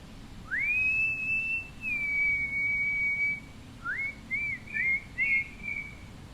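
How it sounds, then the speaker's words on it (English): Loud outdoor birdsong: a bright, clear whistled call held for a few seconds, then a quicker run of short rising whistles, close and prominent over a faint background hum. "the birds are loud today"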